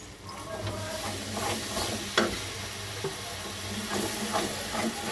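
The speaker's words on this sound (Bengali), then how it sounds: "যতক্ষণ না জলটা টেনে শুকিয়ে যায় ততক্ষণ একটু নাড়াচাড়া করতে থাকবো" Butter garlic chicken with flour and a splash of water is stirred in a hot pan, giving a steady sizzle and hiss broken by several sharp spoon scrapes and clinks against the metal.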